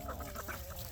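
Homestead ducks quack in short, repeated calls while bathing in water, the quacks fairly faint and close together over a low background hum.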